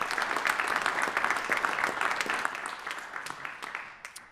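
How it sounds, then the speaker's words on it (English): Audience applause at a hall of fame induction ceremony, a dense wash of many hands clapping that holds steady and then thins toward the end, with a few isolated claps standing out as it fades. "let's go ahead and give him a round of applause"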